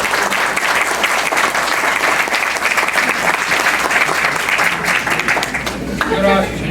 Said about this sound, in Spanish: Vamos a renovarle un fuerte y caluroso aplauso al maestro Víctor García.